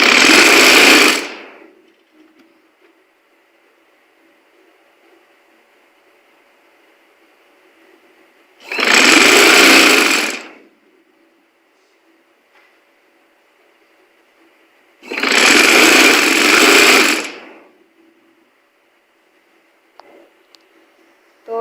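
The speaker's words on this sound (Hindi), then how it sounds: "यहाँ पर खींच की सिलाई लगा लेंगे। इलास्टिक को इसी तरह खींच के चलना है।" A sewing machine stitches elastic onto a shalwar, running in three separate bursts of about two seconds each, with near silence in between.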